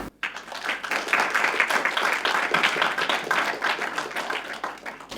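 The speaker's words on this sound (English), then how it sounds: "Big round of applause for him" A university debate audience claps for a PhD student being introduced, with crisp individual claps quickly swelling into full, sustained applause that stays strong and near, no talking on top.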